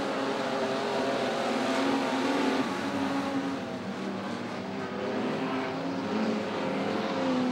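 Holden and Ford speedway race cars at Sydney Speedway, a continuous loud engine roar with rising and falling revs as the pack circulates, no pauses.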